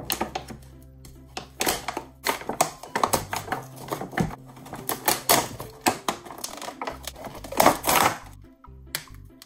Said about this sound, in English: Let's open the box and take a closer look at Queen Elsa.